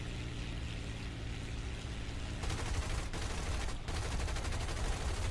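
Aircraft machine-gun fire in the War Thunder flight game, dense continuous rattling bursts under a droning engine roar, loud and unbroken apart from a couple of brief gaps.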